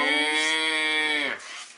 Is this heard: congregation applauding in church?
no